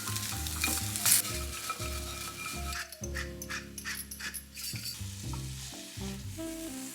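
Tempeh bacon with a dash of liquid smoke frying in a pan: a steady, crackling sizzle close by, with occasional scraping from stirring and no voices.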